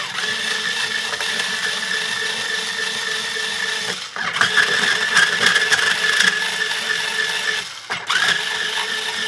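A motorized string winder whirring loudly as it unwinds old strings from a Jackson RRV electric guitar, a sustained mechanical buzz that cuts off briefly twice between winds.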